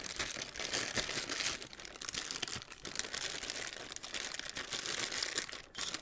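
Plastic packaging crinkles and crackles almost nonstop while a PULSE Wireless Stereo Headset Elite Edition is unboxed, a dense, close rustling with a brief lull near the end.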